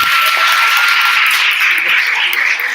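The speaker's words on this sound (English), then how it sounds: "would you just please have a round of applause for our panelists today?" Audience applause for the panelists at a Black Solidarity Conference panel on media and culture, a steady broadband clapping wash close and loud, filling the whole moment without a break.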